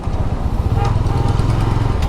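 GPX Demon motorcycle ridden through city streets, a loud, close, low engine thrum with a steady pulsing rhythm and wind rumble, no talk.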